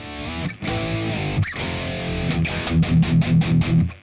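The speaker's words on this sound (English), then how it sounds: "there's some bass tones as well." A bass tone preset on a Sonicake Ampcube practice amp plays a gritty, driven bass line: a sustained low note, then a run of short, punchy, evenly repeated notes.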